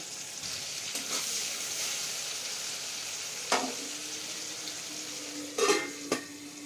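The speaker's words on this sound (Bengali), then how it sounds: "রসুন একটু হালকা লাল করে ভাজা হয়ে গেছে, এরপর এর মধ্যে দিয়ে দেবো কেটে রাখা কয়েকটা টমেটো কুচি" Chopped tomatoes dropped into a pan with lightly browned garlic, a steady moderate sizzle broken by a few clinks and scrapes of a utensil against the pan, and a louder burst of hissing near the end.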